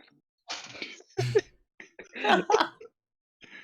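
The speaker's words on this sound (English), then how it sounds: "He's coughing every time." A few separate coughs and throat-clearing bursts sound close by, spaced out with quiet gaps between them.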